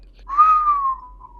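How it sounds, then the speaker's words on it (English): Someone whistles a single sliding note that rises and then slowly falls, thin and clear over radio comms against near silence. "No, he's still whistling."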